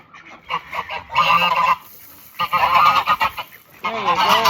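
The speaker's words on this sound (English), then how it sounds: "as you can hear the geese and ducks in the background." Geese and ducks honking loudly and close in several harsh, overlapping bursts separated by short pauses.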